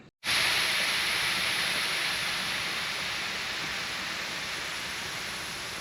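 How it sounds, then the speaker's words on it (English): A chemical meal heater releases a strong, steady hiss of steam through holes, bursting on after a brief silence and holding constant, close and loud, barely fading over several seconds. "There's the chemical reaction heating up the water, and blows the steam out the holes"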